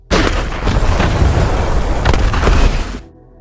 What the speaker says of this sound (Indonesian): tanpa diduga mobil yang telah dipasangi bahan peledak oleh Jim ini pun meledak